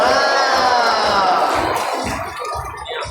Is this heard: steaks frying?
no